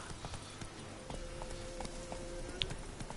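A horse's hooves clip-clop in The Witcher 3, a quick, regular trot of sharp knocks at close range, moderately loud against a quiet game backdrop.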